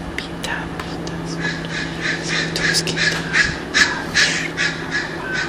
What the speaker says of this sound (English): I'm at a place with some birds and traffic.